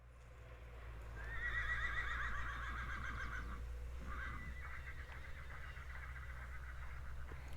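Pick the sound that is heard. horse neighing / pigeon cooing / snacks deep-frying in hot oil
horse neighing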